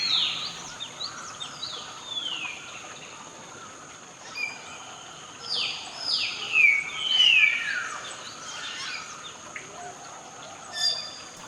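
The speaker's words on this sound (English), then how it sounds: "Like most miners, the hill miner is very vocal and is constantly calling." Hill mynas calling from a Sri Lankan forest near Kandy, a series of sharp descending whistles and chirps at moderate distance, clustered in the middle stretch over a faint steady insect hum.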